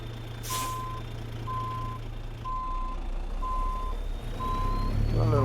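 A truck reversing in the video game American Truck Simulator: five evenly spaced reversing beeps over a steady engine drone, with a hiss of air brakes at the start and engine rumble swelling at the end.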